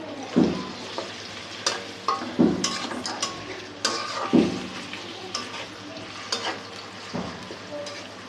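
Onion, bay leaf, cardamom and cinnamon fry in hot oil in a wok, with repeated scraping stirs every second or so over a continuous soft sizzle, close by.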